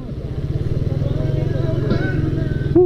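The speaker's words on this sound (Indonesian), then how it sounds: "Motornya gede banget" A big motorcycle idles close by with a steady, loud, rapid pulsing thump, joined briefly by a faint higher tone near the end.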